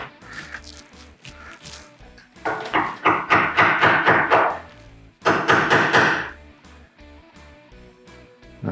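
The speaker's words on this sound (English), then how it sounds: "we first chisel it straight down, and then we chisel away until it's flat" Chisel being struck straight down into wood clamped to a bench for an electrical box cover, giving two close, loud bursts of rapid rhythmic mallet taps separated by quieter pauses.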